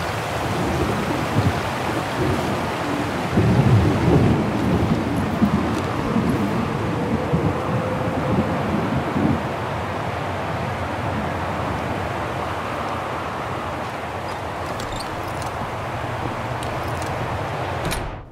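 Steady rain with wind during a thunderstorm in the video game Syberia The World Before, a continuous broadband wash of rainfall and gusts with no distinct thunderclap.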